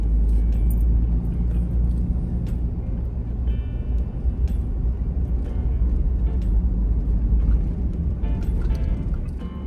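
Vehicle rolling through a small dip on a dirt road near Cieneguita Campground in Las Cienegas National Conservation Area: a constant loud low rumble of engine and tires with occasional rattles and clunks, no talking.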